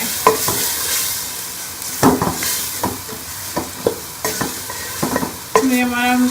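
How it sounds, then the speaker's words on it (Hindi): Garlic-ginger paste with salt, red chili powder and dried coriander frying in a pan for chicken biryani, a steady sizzle broken by repeated scraping stirs of a spoon against metal, close and clear with no talk. "लहसुन अदरक का पेस्ट, ये हमारा नमक, लाल मिर्च पाउडर और सूखा धनिया ये डाल देंगे और इसको भून लेंगे।"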